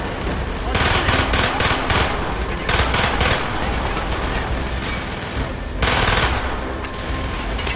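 Sustained automatic gunfire and bursts of shooting from the Call of Duty: Black Ops campaign mission Project Nova, loud and dense throughout with brief lulls between volleys.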